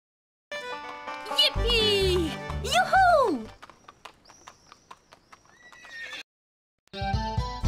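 A horse in the Bibi und Tina video game whinnies twice in loud, wavering cries over clip-clopping hooves, followed by gentle game music tones and a short pause before more sound.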